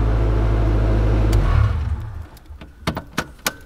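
A Honda car engine on a stock P30 ECU idles with a loud, low rumble for a moment, then cuts off, leaving a few sharp clicks and knocks.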